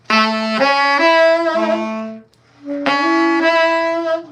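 Three ascending notes of a 1-3-5 chord arpeggio sound one after another on a sustained, tonal instrument, then the three-note arpeggio repeats after a brief pause.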